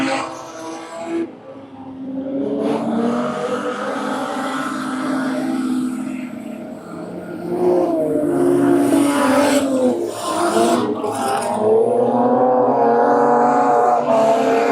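Race cars roar around a track during a racing event, their engines droning loud and close as they pass and accelerate, with a commentator's voice carrying over the noise.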